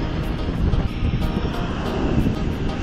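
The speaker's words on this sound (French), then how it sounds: "il faut ramener le drone, rien de particulier" A fishing drone flies back over the coast in Australia, a steady broadband whir blended with wind and surf noise, continuous and fairly loud throughout.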